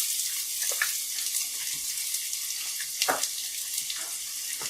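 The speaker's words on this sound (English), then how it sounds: "That's what you want to hear. A continuous sear." Sliced garlic cloves and half a diced white onion sear in a pan, a fairly quiet, even hiss with occasional soft pops and spatula scrapes, no voices.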